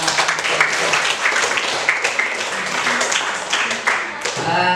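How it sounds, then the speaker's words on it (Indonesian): A classroom of students applauds classmates who presented for their group, giving a dense, fairly loud patter of clapping throughout with voices mixed in. "Sekali lagi kita berikan aplaus tepuk tangan kepada teman-teman"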